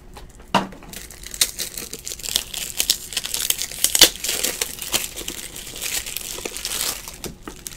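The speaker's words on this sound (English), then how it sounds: "Go ahead and top load that thing." A basketball trading card from a 2017-18 Absolute Basketball case break slides into a stiff plastic top loader, with close crinkling, scraping and a few sharp clicks of plastic handling.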